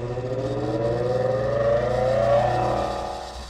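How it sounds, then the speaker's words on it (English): A bench grinder runs steadily on low speed, ready for sharpening a wood-turning bowl gouge, giving a continuous motor whir with a rising and falling tonal hum, fairly close and alone. "Turn your grinder on, and I like it on low speed."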